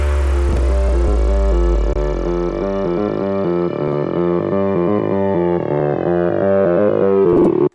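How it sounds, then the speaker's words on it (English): A loud synthesized siren wails within a dense electronic mix, its pitched tones rising and falling over a deep bass hit at the start. "I have some risers and fallers, as well as this siren sound"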